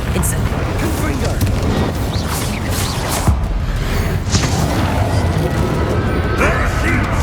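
Bombarda, Incendio and Confringo spells cast during a Hogwarts Legacy fight, a dense, continuous barrage of loud blasts, crackles and impacts, with a voice heard over the din.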